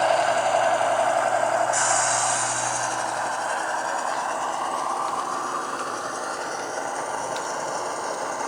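A model train rolls along a layout in a steady, close mechanical rumble, with a thin squeal early on that soon fades.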